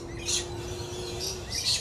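Short, high chirps come from a small bird close by in two or three brief bursts, with a faint steady hum underneath and no speech.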